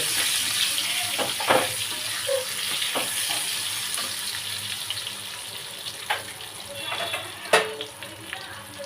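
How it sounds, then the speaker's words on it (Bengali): Potatoes fry in oil with a soft, steady sizzle, broken by a few sharp crackles and utensil clinks, heard fairly quietly and without any speech. "এদিকে আলু ভাজা হয়ে গেছে"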